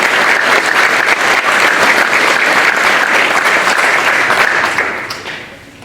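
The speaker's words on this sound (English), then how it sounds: "Yes, you can clap for our speakers." Loud, dense applause from the audience at a county law enforcement memorial ceremony, sustained and even for several seconds before tapering off at the end.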